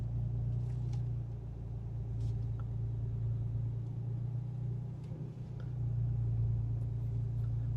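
A 2019 Land Rover Discovery HSE Td6 with a diesel engine crawls off-road, heard from inside as a steady low engine rumble and drone with slight shifts in load, alongside faint knocks from the cabin.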